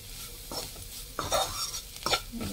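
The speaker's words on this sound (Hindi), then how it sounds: "और इसमें जाएगा थोड़ा सा गरम मसाला पाउडर, और इसको भी मिक्स कर लेंगे।" Garam masala powder is stirred into a frying mixture in a pot, a spoon scraping and clinking against the metal in a few short strokes over a light sizzle, close by and without speech.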